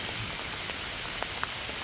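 Steady rain patters on a canopy during a hail storm while camping in Clear, a dense continuous hiss with a few sharper drop hits standing out, close and uninterrupted, with no voices.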